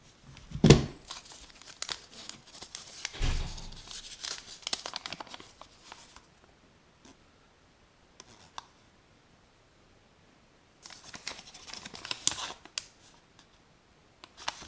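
Paper found tucked inside an old radio is crinkled and torn in a few sharp bursts, close and fairly loud, with quiet gaps between handling sounds.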